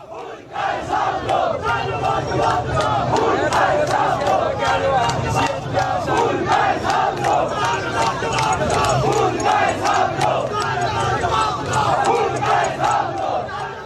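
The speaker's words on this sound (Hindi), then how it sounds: "लोग जवाब मांग रहे हैं, नारे लगाए जा रहे हैं कि कातिलों जवाब दो, खून का हिसाब दो।" A large crowd in PoK chants protest slogans, loud and close, with many voices shouting in a steady, repeated rhythm that carries through the whole stretch.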